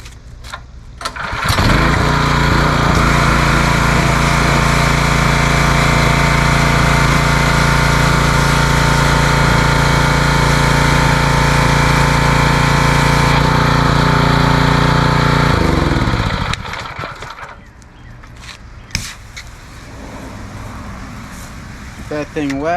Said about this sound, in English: Start that pressure washer.